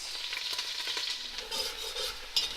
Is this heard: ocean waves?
no